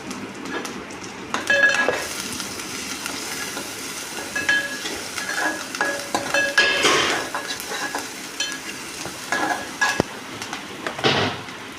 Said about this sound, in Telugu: ఒక గిన్నెలో టూ టేబుల్ స్పూన్ ఆయిల్ వేసి ఉల్లిపాయలు వేసి ఉల్లిపాయలు బాగా వేగాక కొంచెం కరివేపాకు వేసుకోవాలి